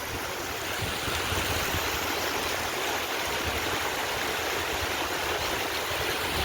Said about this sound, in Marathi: खळखळ खळखळ खळखळ आवाज येतोय ना पाण्याचा